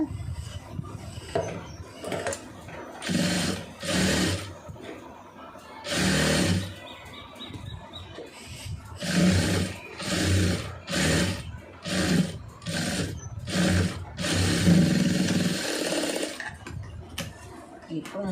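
Sewing machine stitching a blouse neckline, running in repeated short bursts of rapid mechanical chatter separated by brief pauses, close up, with someone talking between some of the runs.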